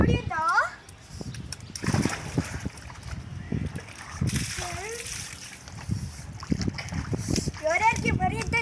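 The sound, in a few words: splashing water while playing on home terrace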